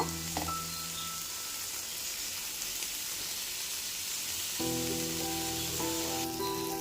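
Hariyali chicken tikka fries on a tawa with a constant, dense sizzle and hiss throughout, steady and fairly loud, with a faint tonal hum in the background and no speech.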